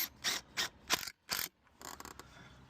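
Screw being driven into an outside wall while fixing damp, heard as several short bursts of ratcheting, grinding drive noise separated by brief pauses, then a quieter stretch of scraping at close range.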